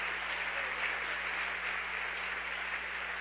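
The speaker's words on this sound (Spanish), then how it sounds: "Denle un aplauso al Rey, porque tiene la capacidad de arrepentirse." Applause from a church congregation during a Spanish-language sermon, a steady, even wash of clapping that holds at a fairly constant level throughout, with no voices rising above it.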